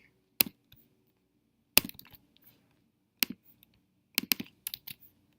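Sparse key presses on a computer keyboard: a few short, crisp clicks with quiet gaps, then a quick cluster of taps near the end, close and fairly faint in a quiet room.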